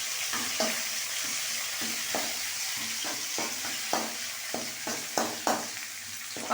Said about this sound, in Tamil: வெங்காயம் வதங்கும் போது கொஞ்சம் கருவேப்பிலை சேர்த்துப்போம்.